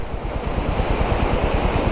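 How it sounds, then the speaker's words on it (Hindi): Water from a waterfall pours over a cliff onto a rough mountain road near Madkot on the Pithoragarh to Munsiyari route, giving a steady, loud rushing roar with a low rumbling churn that fills the whole clip, with no talk. "आपकी वाटरफॉल गिर रही है और ये रोड उसके नीचे से है और क्लिफ के ऊपर से ये पानी गिर रहा है।"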